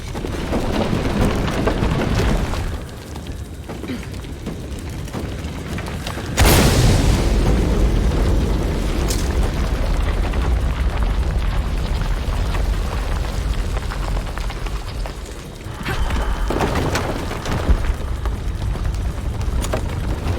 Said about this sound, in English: Another explosion would raise the platform.